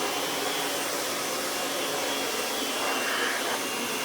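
A Kirby Ultimate G3 upright vacuum cleaner fitted with its bare floor tool runs steadily with a loud, broad whooshing motor roar and no pauses, close by and without any talk.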